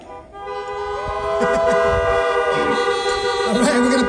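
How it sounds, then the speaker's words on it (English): Several car horns blare together in a sustained, loud chorus of overlapping tones, with crowd noise and shouting mixed in. "I want you to shout or honk your horn."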